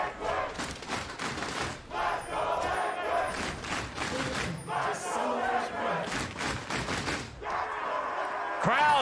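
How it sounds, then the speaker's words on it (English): Esports arena crowd cheering for Team Liquid at an LCS Spring playoff match against Evil Geniuses, a dense, sustained roar of voices swelling and surging throughout, with a caster's voice talking over it. "Team Liquid's fans roar to life"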